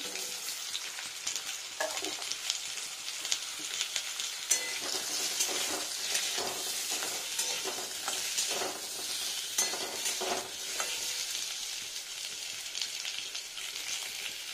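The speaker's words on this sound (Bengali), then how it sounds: "আলুগুলোকে একটু ডিপ ফ্রাই করে নেব।" Potatoes deep frying in oil for a ridge gourd dish give a continuous, dense, close sizzle with fine crackling and a few faint utensil scrapes, steady throughout and without speech.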